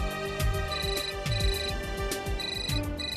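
A telephone ringtone plays steadily for several seconds, a repeating electronic melody with regular pulses, loud and close, with no voices over it.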